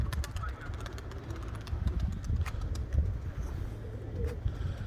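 Tumbler pigeons coo in low, soft repeated bursts close by, with faint chirps and background voices mixed in.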